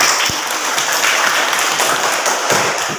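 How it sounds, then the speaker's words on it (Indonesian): A school class gives applause during a history lesson, a dense, loud burst of many hands clapping that continues for the whole stretch. "Kita berikan tepuk tangan dulu."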